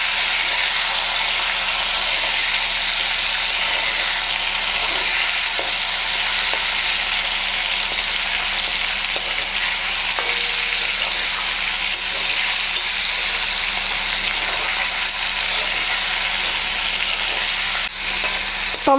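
Chopped tomato fries in a pan with a loud, continuous hissing sizzle that stays even for the whole stretch, with only faint stirring scrapes mixed in.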